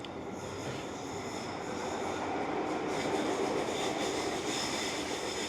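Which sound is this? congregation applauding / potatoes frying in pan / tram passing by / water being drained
tram passing by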